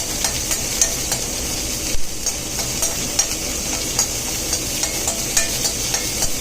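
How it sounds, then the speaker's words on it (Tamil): Steady close sizzle of green chilies sautéing in a pan for vendakkai more kulambu, with a spatula scraping and stirring at irregular intervals, no voices. "இப்போ இதை நல்லா வதக்கிடுங்க ஃப்ரெண்ட்ஸ்."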